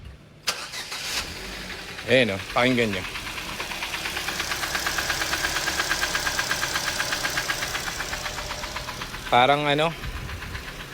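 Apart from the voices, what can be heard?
second-hand car engine starting and knocking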